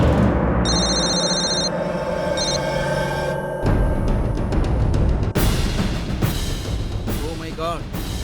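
A telephone rings with a bright, repeated electronic trill of short bursts, followed by a busy mix of voices and shifting sounds, in a scene where a call comes in from a hospital.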